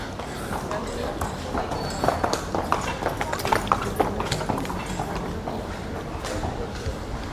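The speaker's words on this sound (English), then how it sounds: "Ooh, there's a horse." A horse clip-clopping along a street in Palma de Mallorca, a steady run of hoof strikes passing close by under outdoor city noise, with people talking over it.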